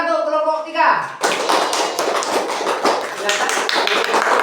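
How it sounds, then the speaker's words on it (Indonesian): Applause from a classroom group breaks out after a brief musical tone, a dense patter of many hands clapping continuously at close range. "Tepuk tangan untuk kelompok 3."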